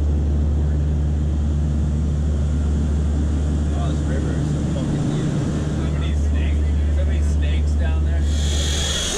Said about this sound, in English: Big guy in a little plane.